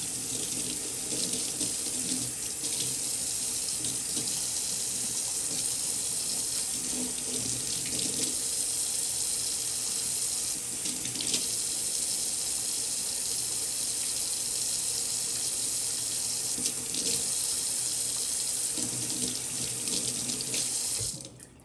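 Tap water runs steadily into a sink while brushes are washed off, a continuous close gush with faint clinks and shifting splashes as things move under the stream, no talking throughout.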